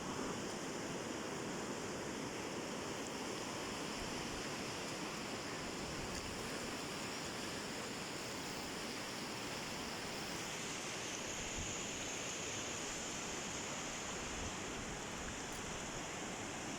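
The ice-cold Siran river in the mountains of Pakistan rushes steadily in a dense, continuous roar of flowing water, loud and unbroken throughout with no voices.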